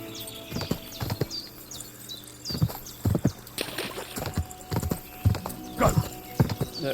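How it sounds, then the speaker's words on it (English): A horse in Kingdom Come: Deliverance 2 is led down into the trees, its hooves clip-clopping in a steady, moderately close rhythm, with a brief neigh and soft patter and birdsong in the background. "Just sort of leading my horse down into the trees."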